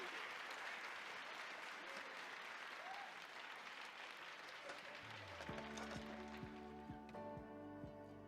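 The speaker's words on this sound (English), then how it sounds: "Please give them a big round of applause." A live crowd applauds diet challenge participants at an online success academy event with steady, fairly soft clapping. Partway through, a short musical fanfare of tones rises over the clapping.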